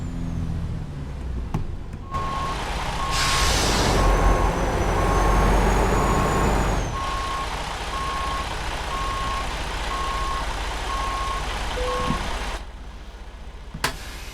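A truck in American Truck Simulator reverses with a steady, evenly spaced electronic backup beep over a constant engine drone, with a hiss of air brakes partway through, all close and sustained with no voices.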